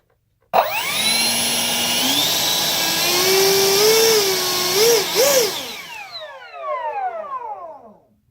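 A 70mm electric ducted fan in a Hobbyking Skysword model jet runs through a throttle test: a sudden loud whine rises in pitch, holds and wavers, then spools down in a falling whistle, close and alone.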